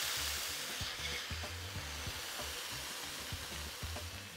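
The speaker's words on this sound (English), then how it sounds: "you do want to brown the beef to, like a walnut brown color" Beef browns in a skillet with a faint, steady sizzle and soft crackle under a low, even background hum, heard alone without talk.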